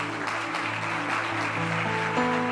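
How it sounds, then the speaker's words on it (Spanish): A church congregation applauds together, the clapping steady beneath sustained organ or keyboard tones and a voice. "Ahora sí, denle un aplauso al Señor."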